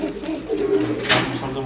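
A red Muslodom pigeon held in the hand gives low, continuous cooing up close in a dim loft, with a brief rustling burst midway.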